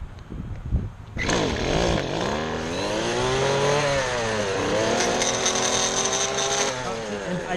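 A lawn mower starts up and runs steadily while mowing a lawn, its loud engine drone holding for several seconds with shifting pitch as it moves.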